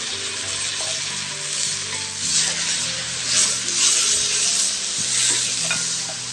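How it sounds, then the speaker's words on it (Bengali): Spice paste with onion and garlic sizzles and fries in a pan while being stirred for a jute-leaf curry with koi fish; a continuous close hiss runs throughout, with scraping stirring strokes and no talking. "এখন মশলাটা ভালো করে কষিয়ে নেব।"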